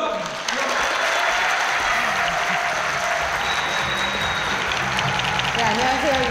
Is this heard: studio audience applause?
yes